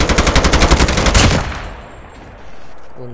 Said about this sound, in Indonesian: Ada yang nembak di belakang.